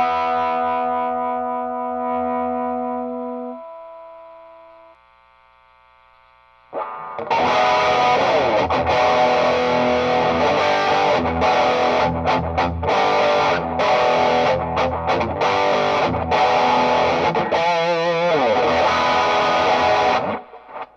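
Electric guitar through a Strymon Sunset dual overdrive pedal pushed hard: a sustained clean-toned chord fades out, then heavy, saturated distorted riffing with choppy stops and bends plays loud and dense.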